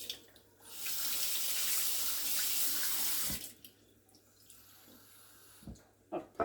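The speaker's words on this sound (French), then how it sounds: "un peu d'eau. L'eau froide, hein." Cold water runs steadily from a kitchen tap for about three seconds while puff pastry dough for a galette des rois is made, ending with a few soft knocks and clatters.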